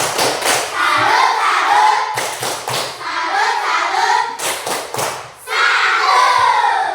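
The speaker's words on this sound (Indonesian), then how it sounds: "Untuk kelas 5 kita beri tepuk salut." A fifth-grade class gives a 'tepuk salut' cheer, loud patterned clapping and thumping mixed with children's chanting voices, in several close, energetic bursts with short breaks between them.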